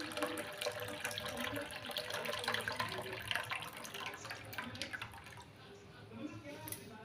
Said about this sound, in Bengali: 6 বারের বারে মানে জলটা ফেলাচ্ছি